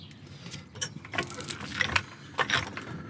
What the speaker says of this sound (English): I'm gonna just jack it up gently and take the weight.